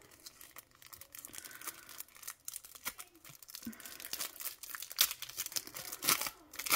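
Paper crinkles and tears as a package is unwrapped for an unboxing, quiet and close, with scattered rustles and crackles that grow busier toward the end.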